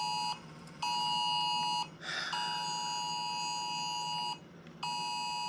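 An electronic alarm tone sounds in steady repeated bursts, clear and sustained, with brief pauses and a soft rustling break in the middle and no speech.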